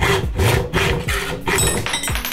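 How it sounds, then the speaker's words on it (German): A hand saw cuts through a metal stunt scooter handlebar in close, loud back-and-forth strokes, about five rhythmic passes with brief pauses between, no talking. "Wichtig beim Sägen ist, dass ihr möglichst gerade absägt."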